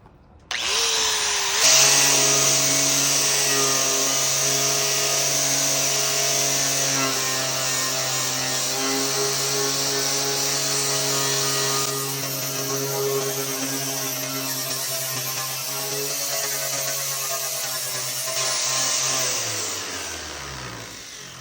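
An Ezark 4.5-inch 120-grit zirconia flap disc on an angle grinder grinds paint off rusty painted metal, a loud steady high whine held for about twenty seconds, spinning down at the end.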